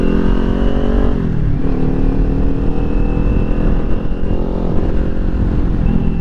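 A 2022 Kawasaki Ninja 400 fitted with a LeoVince slip-on exhaust drones loudly and steadily while riding, its engine note dipping briefly then pulling back up, close and continuous with no talk.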